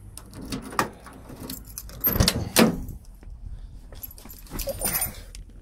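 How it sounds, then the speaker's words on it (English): A Ford Fairmont car door is opened in a garage, with a series of clunks, clicks and a rattling latch spread across a few seconds. "let me crack this door open"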